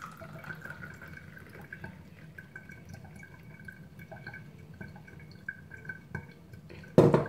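Water trickling and dripping while tea leaves are rinsed for mint tea, a faint steady trickle with light drips, ending in a sudden louder splash of running water.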